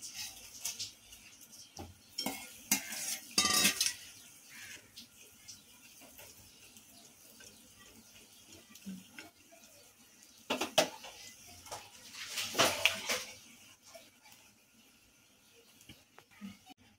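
Dried coconut stirs and fries in a pan, with a utensil scraping and clinking against the metal in scattered bursts over a quiet background.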